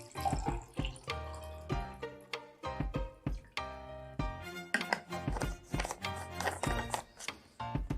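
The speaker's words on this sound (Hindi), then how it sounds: "लेकिन अगर मैं इसमें पानी डाल दूँ" Water poured into a container holding a coin splashes and trickles steadily with small clinks and drips, close and fairly quiet, and no one speaks.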